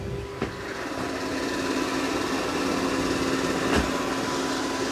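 A Dreame X40 Ultra robot vacuum mopping a floor, its steady high-pitched motor whine and brush hum running continuously and close, with a faint tonal drone and a couple of brief clicks.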